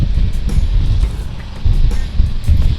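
A 2021 Honda Africa Twin motorcycle on the move, a loud continuous low engine rumble mixed with heavy wind buffeting that swells and dips, close to the rider, with no talking.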